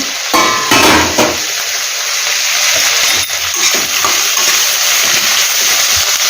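Chopped vegetable pieces for tomato curry fry over medium heat in a pan, a steady loud sizzle running throughout, with a few clattering stirs of a utensil near the start.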